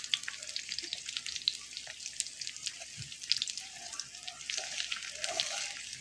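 Rice with fish and potato fries in a pan, a soft sizzling hiss with scattered pops and ticks at moderate level, occasional clinks of a utensil against the pan.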